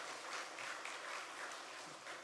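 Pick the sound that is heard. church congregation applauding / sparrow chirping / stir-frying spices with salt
church congregation applauding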